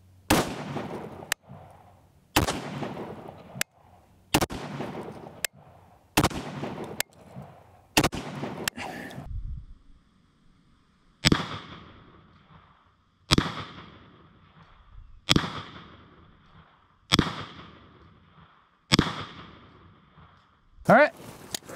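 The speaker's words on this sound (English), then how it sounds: "We're going to do 5 shots and see if any of them make it through." A rifle fires 62 grain M855 green tip rounds at a barrier, loud sharp reports in a steady, evenly spaced sequence, each trailing a ringing echo outdoors, with a short pause midway.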